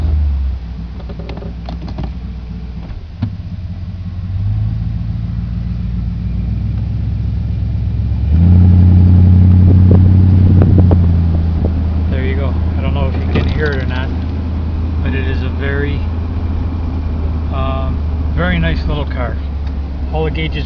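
A Ford-powered 1936 Cord replica convertible's engine turns over and settles into a steady, rumbling idle nearby, with a brief rise in revs midway and some clicking and handling noises over the running engine.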